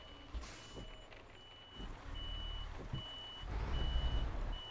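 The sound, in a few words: truck reversing warning beeps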